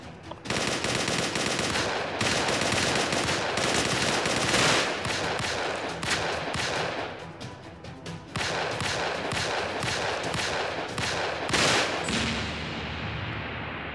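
Sustained rapid gunfire in the game Mission: Impossible Rogue Nation, dense and loud, bursts running almost continuously with brief dips, like heavy automatic weapons firing.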